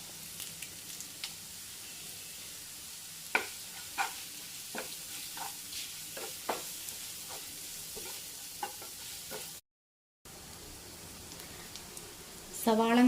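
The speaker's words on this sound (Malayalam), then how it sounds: "സവാള നല്ലപോലെ വഴണ്ട് വന്നിട്ടുണ്ട്" Sliced onions and cut dried red chillies frying in a pan for Kerala-style cauliflower thoran, a steady close sizzle with regular clinks of a spoon stirring, a brief gap near the end.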